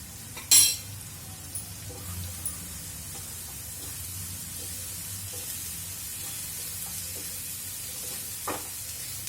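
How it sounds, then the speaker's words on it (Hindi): Masala of turmeric, Kashmiri chilli powder and garam masala frying on low heat in a pan for kadhai paneer, a steady soft sizzle with a sharp clink near the start and occasional stirring scrapes. "धीमी आंच पे भूनेंगे 5 से 10 मिनट।"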